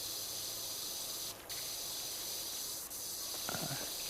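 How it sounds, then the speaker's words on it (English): Steady broadband hiss of a pressure washer spraying in PowerWash Simulator 2, a continuous close jet with brief dips and a short clatter of splashing near the end, no voices. "We can definitely spray it off up close though"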